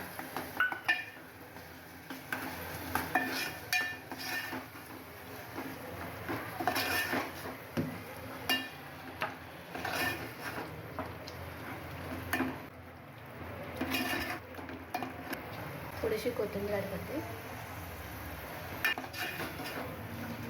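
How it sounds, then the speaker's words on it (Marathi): Spiced masala with finely chopped tomato roasting in oil for a Vidarbha patvadi rassa, stirred with repeated clinks and scrapes of a spoon in the pan over a steady background hiss, close and without speech. "कसं तेल सुटायला लागलं मसाल्याला मसाला आपला चांगला भाजत आहे"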